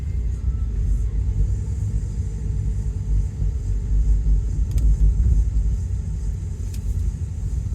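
A Subaru car drives up snowy mountain switchbacks, its steady low road rumble and engine drone filling the cabin continuously, with a couple of faint clicks partway through and no talk.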